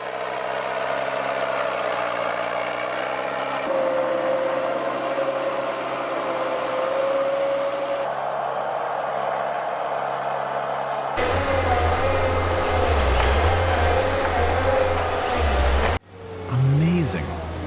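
A heavy forestry machine's engine runs steadily while it drives across a steep, muddy hillside, with a continuous droning hum that shifts in pitch partway through and closes with louder mechanical rumbling and clanks.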